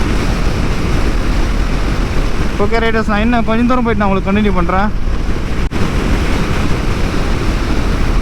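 Loud, roaring wind buffets the microphone throughout a highway ride on a Gen 3 KTM Duke 390, a constant broadband rush with someone speaking briefly over it midway.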